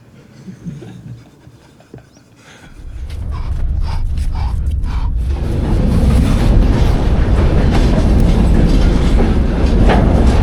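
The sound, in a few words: train wagons being shunted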